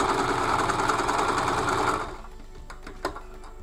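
A Silhouette Cameo cutting plotter with a rotary blade cuts out a Christmas poinsettia shape, its steady buzzing motor whir loud for two seconds, then stopping, with a few light clicks and a brief clatter after.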